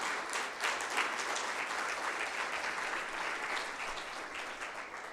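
A church congregation claps together in steady, sustained applause, a dense wash of hands that fills the room evenly for several seconds with no voices over it.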